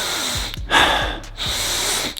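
Several forceful sniffing inhales through the nose while wearing a nasal strip, close and loud, with a long airy breath drawn in between quick snorting pulls.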